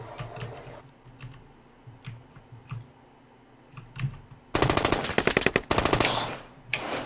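Rapid automatic gunfire in a Squad shooter game, a dense loud burst of repeated shots in the second half after quieter clicks and scattered distant pops.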